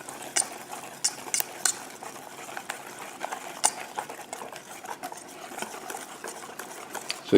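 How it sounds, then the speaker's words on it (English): Gluten free pancake batter being stirred by hand in a bowl, a steady soft scraping and tapping of the utensil with small sharp clinks against the side, close and moderately quiet, no talking. "So you mix this up."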